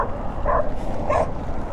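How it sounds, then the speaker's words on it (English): Dogs riding in a police vehicle give two short yelping, whimpering barks over a steady engine rumble. "Out with the dogs."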